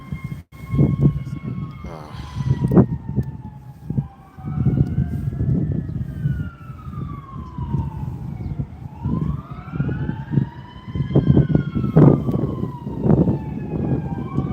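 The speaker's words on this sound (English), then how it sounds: "These sirens, just saw a reflection." Wailing fire truck sirens rise and fall repeatedly over rumbling city traffic noise in Bermuda, fairly loud and sustained throughout, with pitch sweeping up and down.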